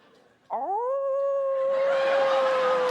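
A person vocally imitates whale song on a game show: a single sustained, rising then steady moaning wail that holds loud and close for about two and a half seconds.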